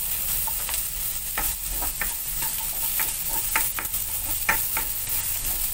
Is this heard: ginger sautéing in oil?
yes